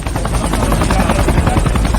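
A helicopter in a Transformers film scene thuds with loud, rapid rotor chops and a low engine drone, close and continuous throughout.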